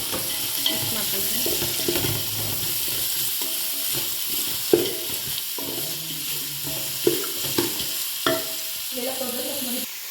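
Four or five green chillies frying with onion in hot oil in a pan, an even sizzle broken by repeated spoon scrapes and clacks, close and steady with no voices.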